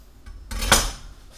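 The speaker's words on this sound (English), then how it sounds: "So I'm going to cut the root end off." A knife slices through the root ends of washed green onions on a kitchen cutting board, giving one short, close, crisp chop-and-scrape sound in a quiet kitchen.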